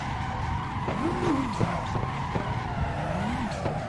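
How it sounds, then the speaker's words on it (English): A car in a racing simulator game drifting through corners on the handbrake, its engine droning steadily while repeated tire squeals rise and fall across each slide. "So let's just drag the handbrake through these corners here."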